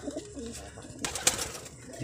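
Pigeons cooing softly in a loft where a hen sits on two eggs, a faint low murmur through a quiet background with a brief brighter burst midway.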